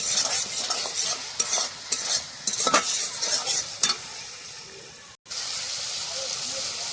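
Spice paste fries in oil in a pan over a wood-fired clay stove, a constant close sizzle broken by repeated scraping stir strokes in the first half, then a brief gap before the sizzling resumes alone.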